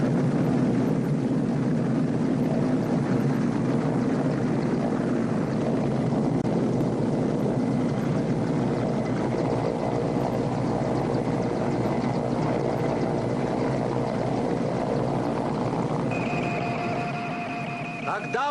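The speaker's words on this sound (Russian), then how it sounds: "Нас ждет вертолет." A helicopter's steady, loud rotor and engine roar fills the whole stretch without letting up, in the hot Karakum desert of Turkmenistan.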